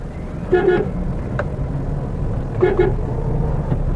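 A car moving slowly along a narrow single-lane road, its engine a low steady rumble close by, with a couple of brief horn-like tones from other traffic, while someone talks over the drive.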